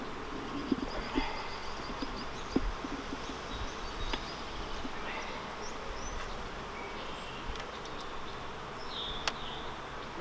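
Honeybees buzz steadily around hives in a small garden, a soft continuous droning hum with scattered faint clicks and occasional distant bird calls, no voices.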